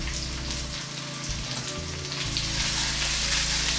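Steady crackling sizzle of onions frying in a hot pan, a continuous hiss with a low hum underneath.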